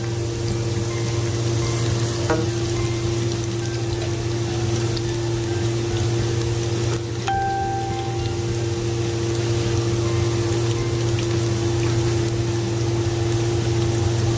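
Onions sautéing in a pan for chicken oatmeal soup give a steady, moderate sizzle over a constant low hum, with a couple of brief clinks partway through and no talking.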